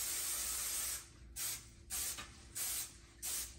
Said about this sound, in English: You're also going to need to spray that with some nonstick spray.